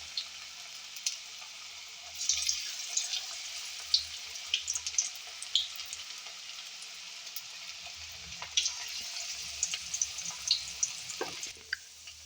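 Onion manchurian balls fry in oil over medium heat, giving a steady close sizzling hiss broken by scattered crackles and pops, with no talk.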